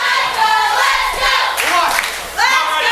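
Wrestling crowd at a live pro wrestling show cheering loudly for Johnny Psycho, a continuous roar with clapping and shouts that rises again near the end.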